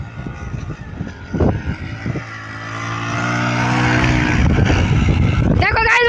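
A motorbike ridden at full speed off-road in the desert, its engine rising from a rough idle to a loud sustained high-revving roar as it approaches, with a voice talking over it.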